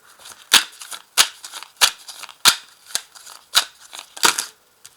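Tarot cards are drawn and handled, making a series of seven or eight crisp, sharp card snaps and flicks at roughly even intervals, close and clear with soft rustling between.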